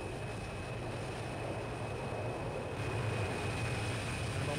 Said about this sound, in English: There we go, there's my private jet.